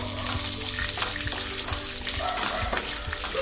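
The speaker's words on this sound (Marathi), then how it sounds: "चना डाळ, कढीपत्ता, मिरची चांगली परतून घेऊया" Chana dal, curry leaves and chillies fry in hot oil for lemon rice, giving a dense, steady sizzle with crackling pops throughout, close and fairly loud, with no talking.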